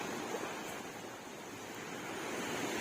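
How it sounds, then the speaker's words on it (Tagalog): Waves wash onto a seaside shore in a steady, broad rushing wash, continuous and moderately faint, with wind across the microphone and no voices. "Tabing dagat."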